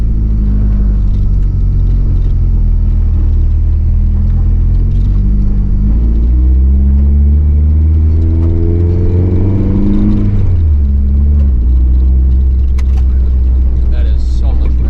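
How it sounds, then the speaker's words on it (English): A Nissan 240SX on a test drive, its engine droning and rumbling loudly from inside the cabin, rising in pitch under acceleration before an abrupt drop as it shifts, then pulling again. "let's take it for your test drive."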